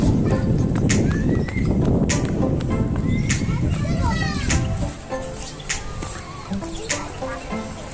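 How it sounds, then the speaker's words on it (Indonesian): Horse ride at a zoo in a tourist park, with hooves clip-clopping in a steady rhythm beneath children's chatter and lively background noise, while a few bird-like chirps ring out. "Naik kuda nih lah."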